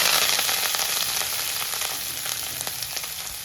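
Chopped spinach with mustard seeds and curry leaves frying in a pan in a Kerala-style home kitchen, a loud, steady sizzle with faint stirring crackles, close and continuous with no voices.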